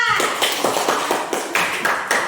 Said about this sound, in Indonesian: tepuk tangan tuh, Opa